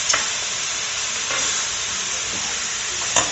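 Meat for a home-cooked meat, rice and gravy dish browns in a hot pan with a steady, loud sizzle and frying hiss throughout, broken by a few brief stirring scrapes; no one speaks.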